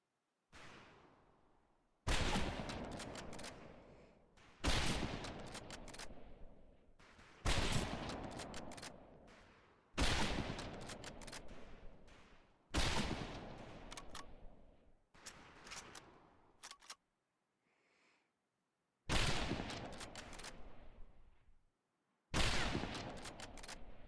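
Volleys of rifle fire on a Medal of Honor: Pacific Assault boot camp firing range, with about eight loud bursts of overlapping shots separated by short pauses, echoing outdoors with no talk.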